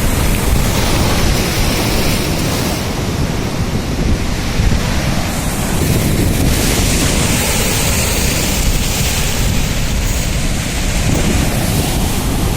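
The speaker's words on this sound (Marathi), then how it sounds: "लाटा कसल्या खवल्या जोरात एकदम" Heavy sea surf on Nandgaon beach in Konkan, waves crashing loudly and continuously in a dense, roaring wash with strong wind buffeting the microphone throughout, no talking.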